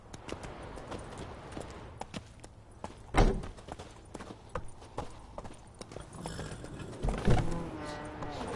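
Horse hooves clip-clop steadily on the ground in The Witcher 3 as a mount trots along, close and clear, with a couple of heavier thuds standing out and no talking.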